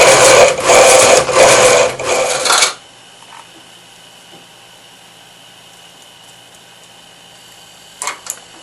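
Motor drive on a Brother KE-100 knitting machine runs with a loud, steady mechanical whir for under three seconds, then cuts off into quiet room noise, with a couple of faint clicks near the end.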